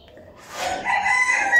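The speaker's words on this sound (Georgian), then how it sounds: "ამას ხო ცუდი ხმა აქვს რომ ყივის საშინელი ხმა აქვს" A rooster with a harsh, unpleasant crow gives one drawn-out, strained call that rises loud and close after a quiet start and holds to the end.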